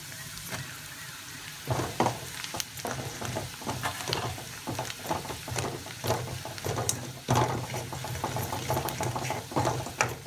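Onions sautéing in a pan with sambar powder and asafoetida for kadhambam sambar: a steady, close sizzle broken by repeated scraping stir strokes.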